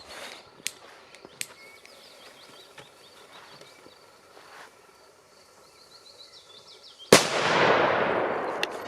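An ACF47 Demon firecracker goes off outdoors with a single sharp, loud bang that decays into a rumbling tail, after several seconds of crickets, insects and a few faint ticks.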